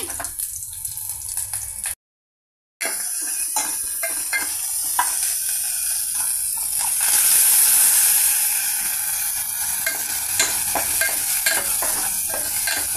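Spice seeds for tempering crackle and sizzle in hot oil in a pan, a steady close frying hiss with scattered pops and stirring scrapes, briefly cut to silence early on.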